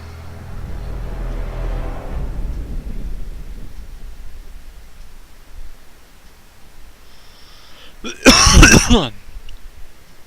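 A single loud burst of coughing breaks out near the end after a long stretch of quiet room noise.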